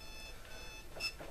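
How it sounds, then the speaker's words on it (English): A phone or clock alarm goes off briefly at low level, a couple of short electronic beeps over a quiet hum. "That was my alarm going off for some reason."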